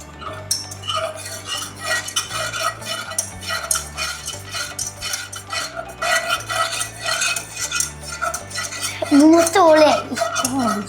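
A whisk clatters rapidly against a pan of hot chocolate heating on the stove, giving close, rhythmic metallic scraping over soft background music.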